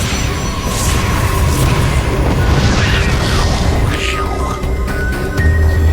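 Supply depot exploding in a StarCraft match, a deep rumbling boom with crackling bursts layered over game sound effects and ongoing casters' commentary throughout.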